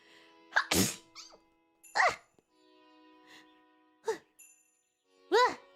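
Someone sneezes over and over: about four or five sharp, loud bursts spaced a second or so apart, with short quiet pauses and a faint tinkling between them.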